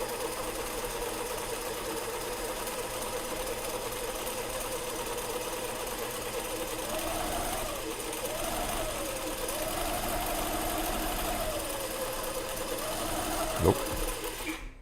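A sewing machine stitching fabric runs in a steady, close mechanical whir with a rapid rhythmic needle chatter, followed by a brief thump near the end and a short spoken word.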